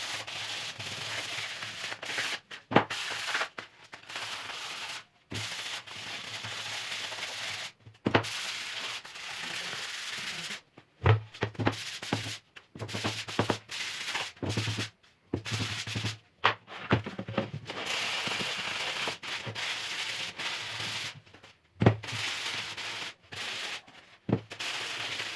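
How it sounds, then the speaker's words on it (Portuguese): Sanding block rubbed along the freshly cut edge of an MDF board, a steady coarse scraping in repeated strokes with short pauses between them, close and loud, no voices. "Dá uma lixada nela para ficar bem lisinho e perder esse corte, porque o corte do MDF é muito fino"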